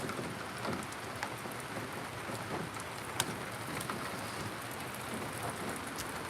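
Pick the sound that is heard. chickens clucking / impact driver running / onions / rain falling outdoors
rain falling outdoors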